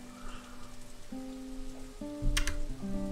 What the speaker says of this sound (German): Vielen Dank für den Regen